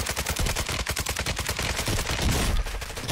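Rapid automatic gunfire in a competitive online shooter match, a dense, loud burst of evenly spaced shots running almost the full three seconds with no speech over it.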